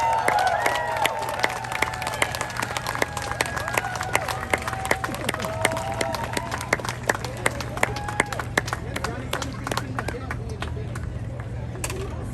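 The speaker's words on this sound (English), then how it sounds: "I ask that everyone give a big round of applause to Eliseo Art Silva." Crowd applause at an outdoor community ceremony in Historic Filipinotown, Los Angeles, with scattered, fairly faint clapping from a modest gathering, a steady low hum underneath and chatter mixed in.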